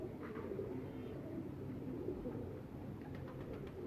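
Breeder pigeons in a breeding setup coo softly and repeatedly over a constant low background hum, the calls quiet and somewhat distant.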